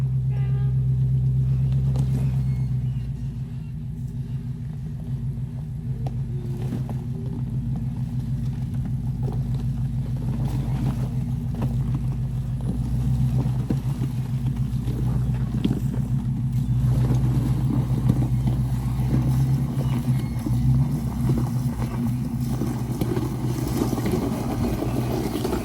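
A Jeep engine rumbles loudly and steadily off-road, a continuous low idle and revving drone lasting the whole stretch, with faint clatter over it.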